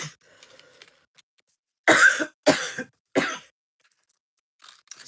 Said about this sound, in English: I don't want to start coughing on you guys.